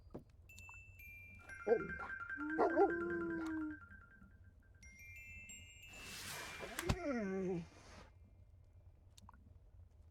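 A dog in the video game The Little Acre gives a few yips and whimpering barks among chiming game tones and jingles, with a burst of noise midway.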